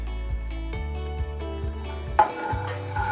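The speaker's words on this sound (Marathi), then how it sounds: "शेंगदाणे तर भाजून घ्यायचे प्रॉपर" Peanuts dry roasting in a pan, stirred with a steady series of scraping strokes about every half second, with a brief louder clatter near the end; nearby and moderately loud, with no talk.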